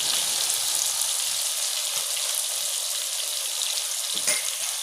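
Okra and ridge gourd frying in a spiced masala: a continuous bright crackle and sizzle, close and fairly loud, with faint clinks of stirring now and then and no talk.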